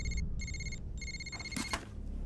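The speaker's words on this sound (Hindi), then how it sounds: "तुमने सही कहा था, फोन भी नहीं उठा रहे" Phone ringing unanswered in a Hindi Bollywood film, two bursts of a high electronic ring separated by short pauses, fairly faint over low background noise, followed by a few rustling knocks.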